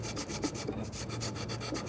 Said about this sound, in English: you can just take a sanding block